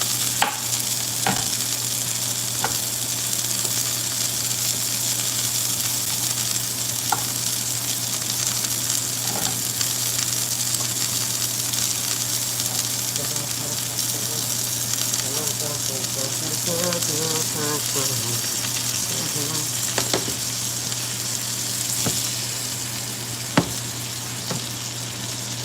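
Filet mignon sizzling in butter in a pan, a steady close crackling fry with scattered pops and clinks as it is basted, with faint talk beneath.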